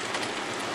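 Rain falls on a wooden Tahiti gaff cutter, giving a dense, steady patter that fills the whole brief moment with no voices.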